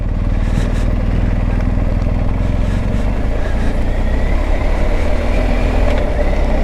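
BMW R1250 GS motorcycle engine climbing a steep mountain pass, a loud, continuous low throb with a steady rumble and slight rising tone, no voices.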